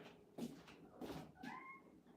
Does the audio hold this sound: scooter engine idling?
no